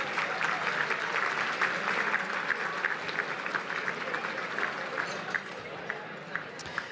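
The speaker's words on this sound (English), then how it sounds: "Okay, everybody, I want to hear it. Round of applause." Sustained applause from a large audience at a city mayors' dinner in Newport Beach, dense and steady throughout, with crowd noise and faint voices mixed in.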